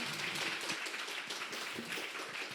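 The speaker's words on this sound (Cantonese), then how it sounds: "我哋俾啲掌聲先" Steady clapping from an audience at a school education sharing session, a soft, continuous patter of many hands held at an even level throughout.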